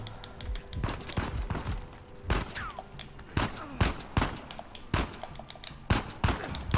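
Uncharted 4 gameplay gunfire comes as a string of sharp, loud shots and short volleys scattered irregularly through the clip, with quieter thuds and movement between them.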